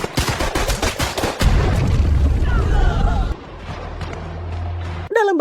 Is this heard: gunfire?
yes